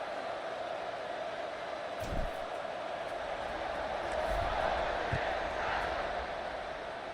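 A college football stadium crowd at the Kansas versus Baylor game roars in a steady, dense wash as the kickoff approaches, swelling a little toward the end, with commentary faintly underneath.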